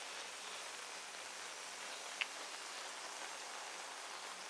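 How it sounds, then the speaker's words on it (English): Rain falls steadily on a garden in a soft, even hiss with no pauses, a single faint drip or tick briefly standing out midway. "As it's raining again."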